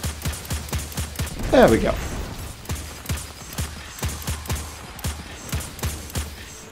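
Gunfire in Destiny 2 aimed at a target, a steady train of sharp, evenly spaced shots running throughout, with one brighter burst partway in, as a voice speaks briefly over it.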